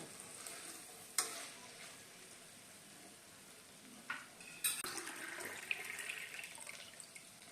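Rice with salt being stirred gently in a pot for an instant bachelor matar pulao, giving a low, quiet scraping and a faint sizzle, with a few sharp clinks of the spoon against the pot.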